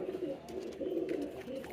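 Pigeons coo close by in low, repeated throaty phrases that overlap in a steady, soft rhythm, with faint chirps and light movement around them.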